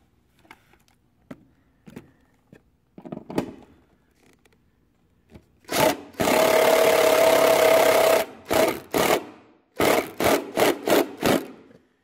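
A bolt is driven into car body sheet metal while fitting an electrical ground point: faint taps at first, then a loud sustained burst of grinding, rasping force followed by several short, sharp bursts close by.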